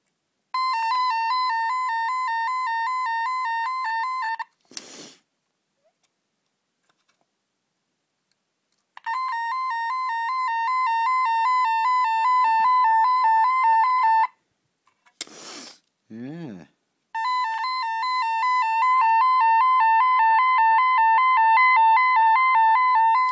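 Tone generator feeding a horn speaker, giving loud sustained buzzy electronic tones in three long bursts, separated by short clicks and a brief sweeping chirp between them; no talking.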